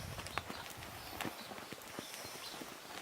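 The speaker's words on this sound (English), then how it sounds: "We'll stay in trot and we're going to ride on this circle." Horses trotting on a 20-metre circle during a group riding lesson, a brisk, continuous rhythm of hoofbeats on arena footing, fairly close and clear.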